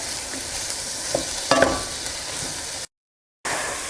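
Sliced mushrooms fry and sweat in a pan for risotto, a steady soft sizzle with a few clinks of a utensil partway through, then a brief dropout before the sizzling resumes.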